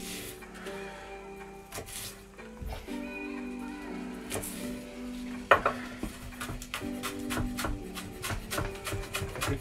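A knife chops a spring onion on a board in a home kitchen, giving a series of sharp, uneven knocks amid clinking dishes and utensils.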